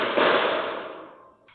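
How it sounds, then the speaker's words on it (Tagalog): Rapid burst of gunfire at a basketball court in North Caloocan, a close, loud cluster of cracking shots that rings out and decays over about a second, with a faint later pop. "nabulabog ang mga residente ng tuloy-tuloy na putok ng baril"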